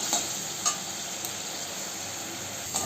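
Pumpkin flowers fry in a pan with a steady close sizzle, while a few brief utensil scrapes mark the stirring.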